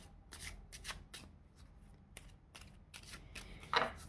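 Tarot cards are shuffled and drawn by hand, crisp riffling and flicking bursts of card stock in quick irregular clusters, close and fairly quiet, with a sharper snap near the end and no talking.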